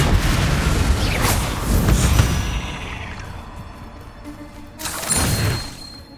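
Bombarda spell explosions in the game Hogwarts Legacy: a couple of booming blasts with crashing debris and a rushing, pouring tail, the second burst coming a few seconds after the first.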